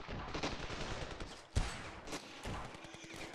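Gunfire in the Ravenfield video game: a sharp shot near the middle with a few fainter bursts around it, over a steady background of game noise, no talking.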